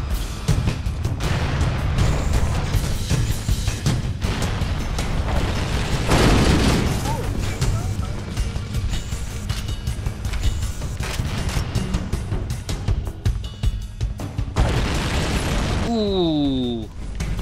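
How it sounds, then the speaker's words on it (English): Explosions tear through an exploding ship in the video game Halo CE Anniversary: a dense, continuous barrage of loud booms and blasts with crackling bursts, ending in a descending whistling tone. "let's get off this exploding ship"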